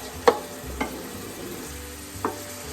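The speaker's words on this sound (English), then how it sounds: "So we always start with the onions. Get them a little soft." Onions softening in a hot, smoking pan for a Sunday ragu give a low steady sizzle, broken by three sharp scrapes or knocks of a utensil against the pan.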